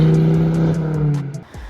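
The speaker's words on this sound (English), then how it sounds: "Exhaust is full 3-inch catback, no mufflers, no resonators," A Mk2 Ford Focus ST225 with a full 3-inch catback exhaust, no mufflers or resonators, drones loudly with a deep, raspy note that rises and then drops off as the revs fall.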